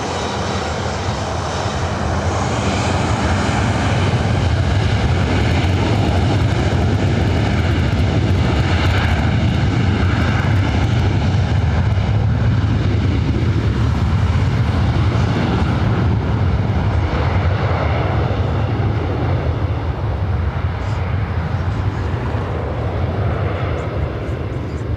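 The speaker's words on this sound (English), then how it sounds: "Also have JetBlue Airways flight 2836 heading to SFO in an A320" A JetBlue Airways A320 departs LAX with a loud, sustained jet engine roar that builds and holds for a long stretch, heard from a distance with no talking.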